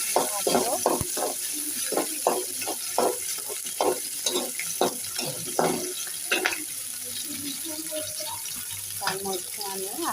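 Onions and green chillies dropped into hot oil in a wok, giving a continuous bright sizzle with repeated scraping stir strokes throughout, close and fairly loud.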